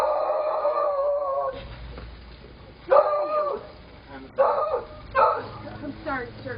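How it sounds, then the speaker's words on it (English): A dog barks and yips at a person in short, sharp bursts spaced a second or two apart, fairly close, with a whimpering tone between some barks. "I'm the person getting attacked by your dog"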